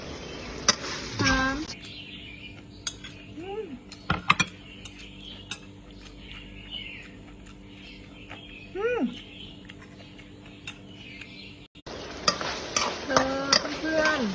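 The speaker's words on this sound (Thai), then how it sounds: "สามชั้นผัดหน่อไม้ใส่เครื่องแกงใต้นะจ๊ะ" Pork belly stir-fried with bamboo shoots and southern Thai curry paste sizzles steadily in a pan, with repeated scraping and stirring clatter and bursts of talk at the start and end.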